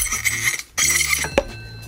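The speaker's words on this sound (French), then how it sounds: "Et on enlève le bel embrayage correcteur de coupe." Metal parts clink and clatter up close as the clutch assembly is pulled from a faulty Yamaha XMAX 125 scooter, with a few bright knocks and a brief quiet gap midway.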